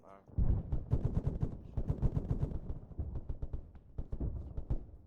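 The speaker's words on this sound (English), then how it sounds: "Shots fired close northeast." Dense Arma 3 gunfire during a platoon training session, with rapid overlapping automatic bursts and single shots, loud and close, continuing for several seconds.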